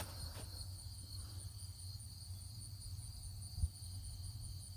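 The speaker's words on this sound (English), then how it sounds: "I hear crickets." Crickets chirp steadily in the background, a faint continuous trill over a low hum, with a brief soft thump partway through.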